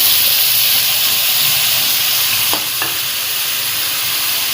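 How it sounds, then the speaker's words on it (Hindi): Minced beef sizzles and hisses steadily as it fries in a hot pot for keema pulao, with a couple of brief clinks of a utensil partway through. "आधा किलो जो है कीमा डाल देंगे और इसी के अंदर इसको अच्छी तरह भून लेंगे"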